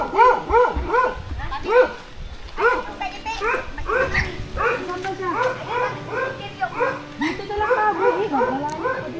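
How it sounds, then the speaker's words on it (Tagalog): A dog barks and yips repeatedly outdoors in a rural village, sharp bursts coming in quick irregular runs, close and loud, with excited whimpering between them and people talking nearby. "Uy, may aso. May aso, tol."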